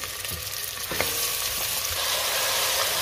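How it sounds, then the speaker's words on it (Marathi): Mutton coated with turmeric and salt hits hot oil with fried onion, a close, loud continuous sizzle with a few stirring knocks early on. "आता आपल्याला ह्यामध्ये हळद मीठ लावलेलं मटण घालायचे।"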